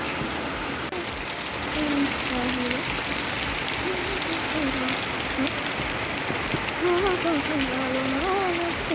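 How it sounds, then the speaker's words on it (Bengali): Steady, dense rain pours continuously, a broad hiss with scattered drops, while faint voices talk intermittently underneath. "খুব বৃষ্টি হচ্ছে"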